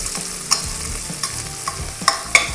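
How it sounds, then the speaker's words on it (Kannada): Onions frying in a pan for peas pulao, a steady close sizzle with several sharp stirring clicks and scrapes of a spoon. "ಈರುಳ್ಳಿ ಚೆನ್ನಾಗಿ ಫ್ರೈ ಆಗಲಿ."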